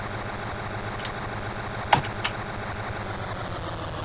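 A TI BASIC program on a home computer imitating a motor revving, heard as a steady buzzing electronic drone with a regular pulsing beat, close and even, broken by a couple of faint clicks.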